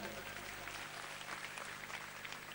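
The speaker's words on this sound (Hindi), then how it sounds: "एक बार उनके लिए भी जोरदार तालियां।" A large rally crowd in Delhi claps in a sustained burst of applause, fairly distant and even, heard from a wide open gathering.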